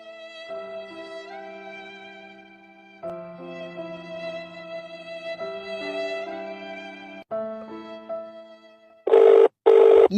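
An old-style telephone bell rings loud and near in repeated trills, each ring warbling and sustained, before a brief burst of a louder tone at the end, with no talking.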